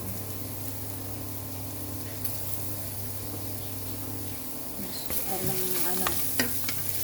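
Garlic hits a hot pan and sizzles, a steady broadband hiss alongside a low hum, joined near the end by a few clinks and scrapes of stirring, with no voices.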